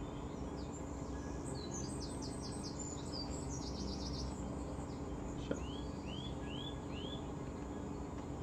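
Bird calls in the video game I Am Fish: rapid trills of chirps followed by a few separate rising whistled notes, over a steady low ambient bed, fairly clear with no talking.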